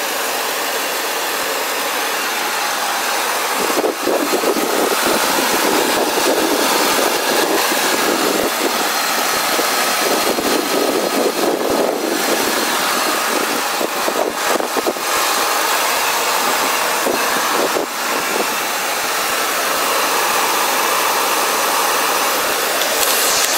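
A 5.4-liter V8 engine in a 2002 Ford Expedition with 113,000 miles and dual exhaust idles steadily with a deep, even rumble and a mechanical hum, loud and close, uninterrupted for the whole stretch.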